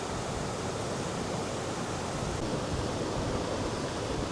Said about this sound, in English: I just love waterfalls. The power of the water is just so amazing.